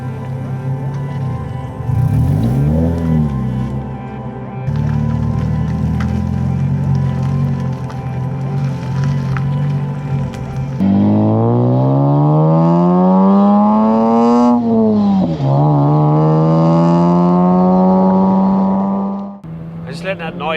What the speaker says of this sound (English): an IS200 with the right exhaust sounds awesome